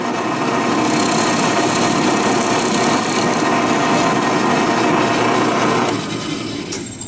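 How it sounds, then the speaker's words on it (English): A drill press drills with a steady grinding, rasping noise that runs continuously for several seconds, then eases near the end. "nice, smooth, safe drilling operation."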